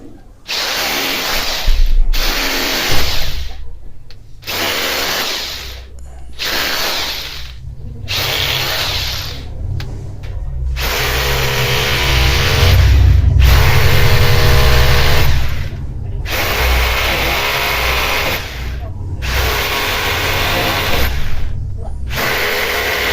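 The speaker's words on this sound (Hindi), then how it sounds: "ड्रिल मशीन की मदद से हम सुराख करने के बाद हम बारी बारी गिट्टी को लगा लेंगे" An electric drill machine bores holes into a wall to mount a split AC outdoor-unit stand, whining loudly in repeated bursts of a few seconds each, separated by brief pauses, close to the listener.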